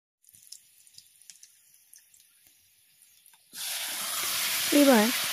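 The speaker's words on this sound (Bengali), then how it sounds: "দিয়ে পরিমাণ মতো সর্ষের তেল দেব, পেঁয়াজ কুচি দেব, 5 ফোড়ন দেব, 2টো কাঁচা লঙ্কা চেরা দিয়ে ভালোভাবে ভেজে নেব" After a few quiet clinks, chopped onion, five-spice and slit green chillies drop into hot mustard oil, and a loud, steady, close sizzle suddenly starts up. A brief voice is heard over the frying.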